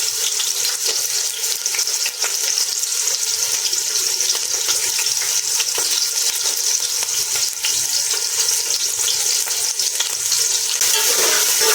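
Chopped onion frying in a pan as a biryani is cooked, a loud, dense, continuous sizzle and crackle heard close up, steady for the whole stretch with occasional stirring and no talking.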